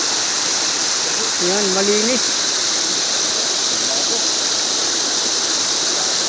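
Water from a mountain water line near a stream in Quezon flows in a steady broadband rush that fills the whole clip, with someone briefly talking over it partway through.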